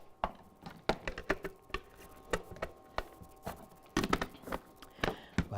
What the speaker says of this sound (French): on va hacher toutes ces branches de persil